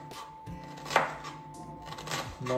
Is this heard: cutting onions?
yes